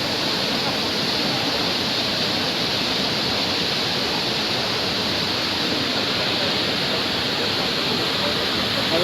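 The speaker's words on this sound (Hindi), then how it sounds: "इस झरने की आवाज़ सुनिए" Sharp, forceful roar of a waterfall in Pokhara, Nepal, a dense steady rush of falling water close by and holding at the same loud level without a break.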